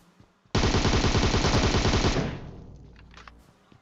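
UMP submachine gun fire in PUBG Mobile, one loud sustained automatic burst of rapid shots lasting about one and a half seconds, then an echoing tail fading out.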